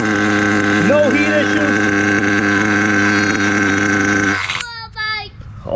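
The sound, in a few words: HPI Savage 21 nitro RC car engine running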